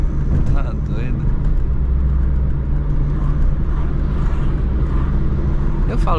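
A Chevrolet Corsa with a 1.6 turbo engine drives along a street, its engine and road noise a steady, close drone heard from inside the car beneath someone talking.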